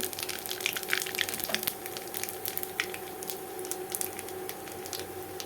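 Bay leaf and black cumin seeds sizzling in hot oil in a pan while cooking a boal fish curry, a steady close crackling fry with small popping spits, no voices.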